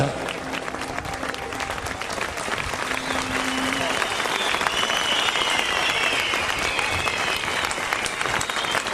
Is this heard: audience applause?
yes